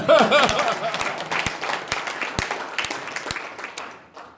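Audience applause at a Lions Clubs International District 355 information session, a broad wash of many hands with sharper individual claps standing out, steady for several seconds and then thinning toward the end, with no talk over it.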